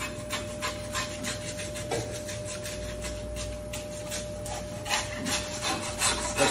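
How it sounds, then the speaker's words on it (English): A handsaw cuts through a Tajima Wagyu beef chuck between the fifth and sixth rib, separating it from the rib section, with steady rasping strokes that repeat at close range and with no talk. "Grab our handsaw."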